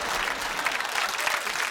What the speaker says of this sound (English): It's a worrying round of applause